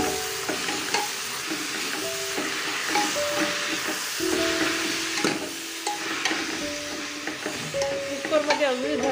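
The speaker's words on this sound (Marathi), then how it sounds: "आता त्याच्यामध्ये मी पालक टाकत" Spinach is tipped into a hot pan and stirred, a busy frying sizzle broken by scraping and knocks of the spoon against the pan, close and fairly loud throughout.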